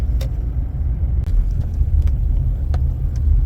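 A Ford taxi driving through Kyiv gives off a steady, close, low road rumble inside the cabin, with a few faint clicks and rattles over it.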